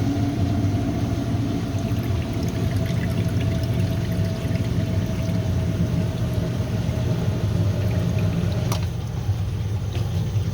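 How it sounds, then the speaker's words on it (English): Steady water pours into a sump pit during a sump pump test, a continuous loud rushing splash lasting throughout with a low constant hum beneath. "The water's running into the hole, so it must be doing the trick."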